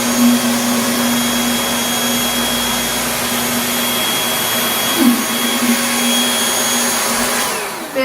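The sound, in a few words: stick vacuum cleaner running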